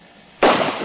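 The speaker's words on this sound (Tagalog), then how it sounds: "putok ng baril yun ah" A single sharp gunshot crack bursts out suddenly after a quiet moment in a Filipino drama scene, loud and close, then trails off briefly.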